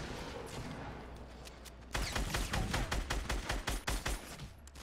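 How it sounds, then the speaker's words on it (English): Grenade launcher fire in Fortnite Battle Royale: a rapid string of punchy blasts and thuds in quick succession, loud and close, after a quieter stretch of game noise. "Shooting grenades over here."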